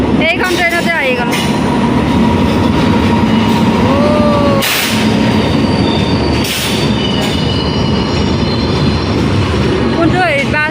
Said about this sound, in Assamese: আৰু এতিয়া আহি গ'ল চব ট্ৰেইন।